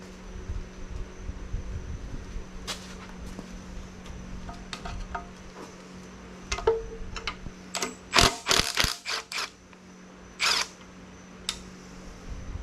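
A wrench and a backing wrench work standard fine-thread engine cover bolts on a Willys Jeep F-head engine, giving scattered metallic clicks, ratchet-like snaps and a few sharp clanks over a quiet shop hum.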